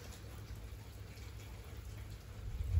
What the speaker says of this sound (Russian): Дождь, послушайте, дождь идет.